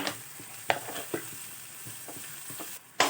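Chopped tomato dropped into a hot tempering in a pan for a North Karnataka dish, giving a steady close sizzle broken by several sharp stirring clicks and scrapes.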